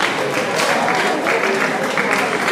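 An audience claps together at a farewell night gathering, a dense, steady wash of applause lasting a few seconds without a break.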